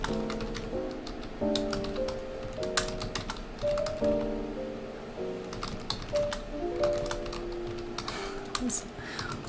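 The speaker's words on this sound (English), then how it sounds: "That's a horrible way of typing that" Rapid typing on a computer keyboard, a steady run of light clicks and taps close by, with soft background music running underneath throughout.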